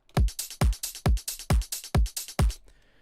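A drum loop with a punchy kick landing about every half second, each hit carrying a sharp click at its front, with hats and snare ducking under the kick before the pattern stops and leaves a faint tail.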